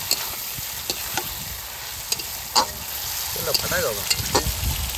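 Tomato frying in fish oil seasoned with salt and turmeric crackles in a continuous sizzle, broken by sharp spoon knocks and scrapes against the pan, with a faint voice murmuring briefly.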